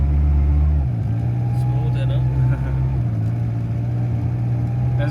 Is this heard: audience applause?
no